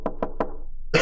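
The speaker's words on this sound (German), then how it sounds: "Ja, ich habe schon wieder Klopfen gehört." Three sharp knocks on a door in a horror video game, evenly spaced about a fifth of a second apart, close and distinct, followed after a short pause by a burst of broader noise.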